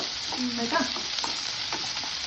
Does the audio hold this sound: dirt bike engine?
no